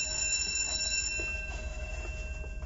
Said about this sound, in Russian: Сигнал тревоги.